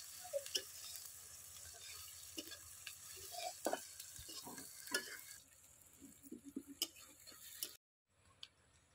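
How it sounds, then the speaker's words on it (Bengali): Onions stir-fry in a pan for a chicken do pyaza, a soft steady sizzle broken by light scraping and tapping of the spatula, fairly faint, then a brief drop to silence near the end. "পেঁয়াজটা নেড়ে চেড়ে ব্রাউন কালার করে নেব"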